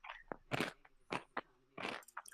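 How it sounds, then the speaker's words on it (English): Close, loud crunching of food near a microphone during an online Dungeons & Dragons game session: several sharp, broadband bites and chews in an irregular rhythm, with no talking. "Who is crunching away? Someone's crunching away."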